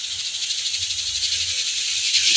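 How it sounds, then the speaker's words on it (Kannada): A pressure cooker of mutton sambar lets off a steady, high, hissing whistle of escaping steam, fairly loud and continuous, with no voices over it. "ವಿಸಿಲ್ ಬರ್ತಾ ಇದೆ."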